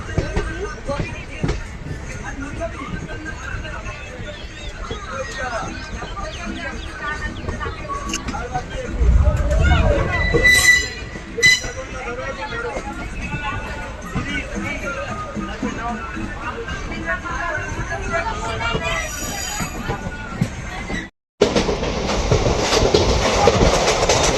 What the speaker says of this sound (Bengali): এই দেখতে দেখতে প্রায় দমদমের কাছে ট্রেনটা গিয়ে চললো